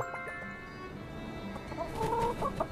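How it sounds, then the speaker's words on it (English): Chickens in the game My Time make soft, scattered clucks followed by a louder burst of clucking calls near the end, heard alone. "Let's see our chickens."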